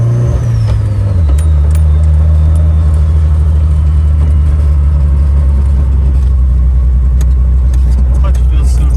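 A car with a manual clutch on its first drive after an oil cooler install, its engine droning loud and steady throughout with a low rumble, close by and continuous, shifting pitch slightly early on.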